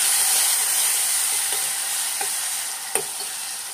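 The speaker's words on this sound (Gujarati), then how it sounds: "પછી બધું મિક્સ કરી લઈએ." Chilli relish fries in a pan with sugar and lemon as it is stirred. A steady close hiss and sizzle runs throughout, broken by a few soft scraping clicks from the spoon.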